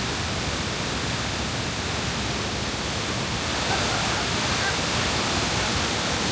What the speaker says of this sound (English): Look at all this water coming from the waterfall.